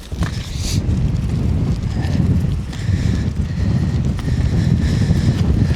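Steady wind buffets the microphone during shingle roof repair, a low rumbling roar that keeps going without a break, with faint thuds mixed in.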